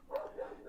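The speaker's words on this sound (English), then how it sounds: "ignore the dog if you can hear that" A dog barks a couple of times indoors, faint and in the background, distant and muffled during a casual recorded conversation.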